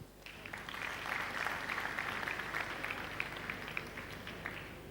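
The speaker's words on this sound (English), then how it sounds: "Please, a round of applause for Nollywood." An audience at the 2010 AMAA awards show applauds in a steady, moderately faint crowd wash of many hands, with faint murmurs underneath.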